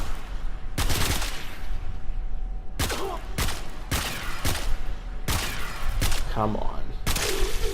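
Gunfire from the Supra Vandal in Warframe, fired in several separate bursts of loud, sharp shots. A short spoken remark cuts in between the volleys.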